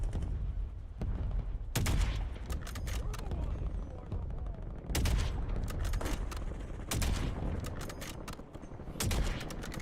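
Shooter-game gunfire comes in loud clusters of quick shots separated by short lulls, with sharp, close reports over a rumbling background.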